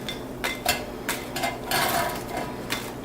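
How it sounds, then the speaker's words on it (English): Crispy fried fries, cooked in a Nuwave oven, are moved onto a plate, making clinking and scraping of utensils against the dish and dry rustling of the fries, close and moderately loud, no talk. "And the fries definitely sound crispy."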